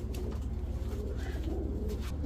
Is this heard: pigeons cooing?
yes